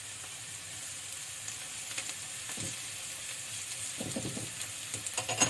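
Sliced white mushrooms sizzling with onion in a frying pan, a steady close hiss with soft clacks of stirring that grow busier toward the end, no voices.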